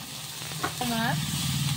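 Broad beans and potatoes tipped into a pan of onions frying in oil, a brief clatter followed by a louder, steady sizzle that fills the rest of the clip, with faint background voice.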